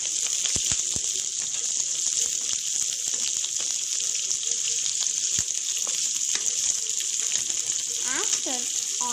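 Green chilli and chopped onion frying in a pan for carrot rice, a steady loud sizzle running the whole time, with a few light clinks and scrapes from stirring and a short watery trickle near the end.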